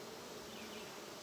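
Honeybees buzz in a steady, soft drone while an open hive is inspected, a faint continuous hum of many insects with no voices.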